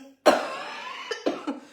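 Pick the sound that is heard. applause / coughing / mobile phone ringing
coughing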